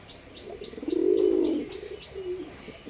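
A pair of black-green pigeons coo near at hand, one swelling throaty coo rising and fading, then a shorter soft note, against a light repeated ticking in the background.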